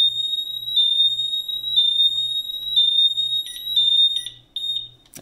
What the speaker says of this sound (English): There, it's trying to acknowledge the alarm still.